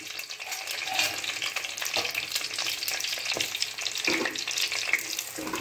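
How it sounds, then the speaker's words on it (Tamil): Cut brinjal (eggplant) fries in cold-pressed sesame oil: a continuous bright crackling sizzle, with occasional soft stirring scrapes in the pan, close and steady throughout. "இப்போது கத்திரிக்காய் நல்லா ஃப்ரை ஆகிடுச்சு."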